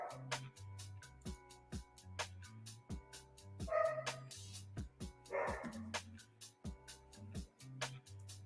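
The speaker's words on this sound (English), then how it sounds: "So you hear my pup barking." A pup barks and yips faintly in the background, repeated short barks with a whimper or two, mixed with an electronic beat under low room noise.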